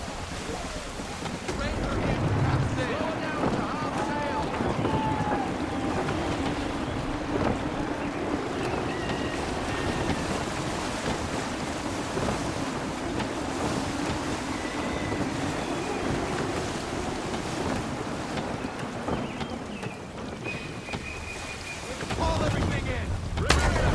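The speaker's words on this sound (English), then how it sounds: "Gusty winds can be difficult to manage." Steady gusting wind roars around a sailing ship at sea in the video game Assassin's Creed 3, with water wash and creaking under a continuous loud rush, briefly dropping near the end.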